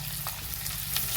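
Onions frying for a Mangalore-style mackerel dish, a steady close sizzle in the pan with faint stirring scrapes, no voices over it.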